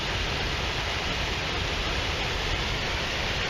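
A small waterfall beside a river in an urban reconstruction zone pours in a steady, broadband rush of falling water, continuous and fairly close, with no talk over it.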